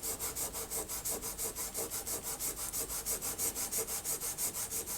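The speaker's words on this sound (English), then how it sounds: "I'll give it a bit of a Scotch-Brite." A Scotch-Brite pad is scrubbed back and forth over steel while cleaning up an etched maker's mark in knife making, giving quick, even rasping strokes in a steady rhythm, close and clear with no talking.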